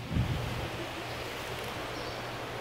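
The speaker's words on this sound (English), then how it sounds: "It's super windy." Strong wind blowing outdoors in a store parking lot, a steady broadband rush with low rumbling buffets against the microphone, loudest in a brief gust near the start and then holding constant with no voices.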